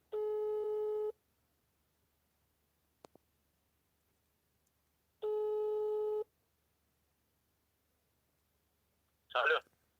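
Ringback tone on speakerphone while calling a prize winner, two long steady beeps separated by silence, with a faint click between them and a short burst of a voice at the end.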